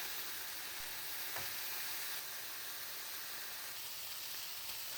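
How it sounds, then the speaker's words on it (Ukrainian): Grated carrot browning together with meat in a pan, a steady low, even sizzle with a faint hiss throughout, quiet and continuous without talk. "Морква нарізана, відправляю її до м'яса. і обсмажую моркву разом з м'ясом також до золотавого кольору."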